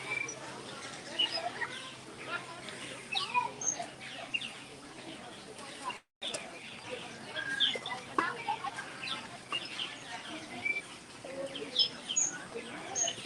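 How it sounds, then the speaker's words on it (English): Birds calling from bushes and trees at Disney's Animal Kingdom theme park, with scattered chirps, tweets and fowl-like clucks over a murmur of crowd voices, moderately distant. "There are birds all in the bushes and the trees."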